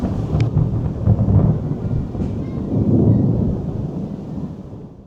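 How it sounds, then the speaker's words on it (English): Thunder from a rainstorm over the sea beside the cruise ship Star of the Seas, a low rolling rumble swelling and fading twice over steady rain and wind noise. "You can just hear the thunder in the background."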